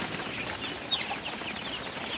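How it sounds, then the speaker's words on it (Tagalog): A farm chicken clucking outdoors under a steady hiss of background noise, with one brief, sharper cluck standing out midway. "Manok namin."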